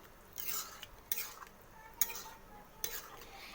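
A spoon stirs mung lentils in a pan, making four quiet scraping strokes with small clinks against the metal, close by over a faint background.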